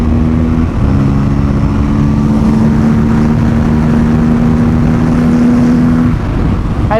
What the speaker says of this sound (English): Look at the way it revs, baby!